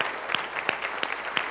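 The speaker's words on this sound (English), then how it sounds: "Let's give them a round of applause." A luncheon crowd at a county address applauds its elected officials, a steady wash of clapping with a few sharper claps standing out at intervals.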